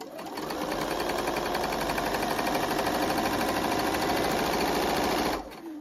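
A sewing machine stitches a fabric Elizabeth dumpling pouch in one steady, close, continuous mechanical whir lasting about five seconds, then stops abruptly.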